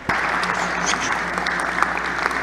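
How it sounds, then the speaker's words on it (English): An audience at a fiber optics networking conference applauds after a presentation, a steady round of clapping at moderate level with a few sharper claps standing out and no speech over it. "An applause."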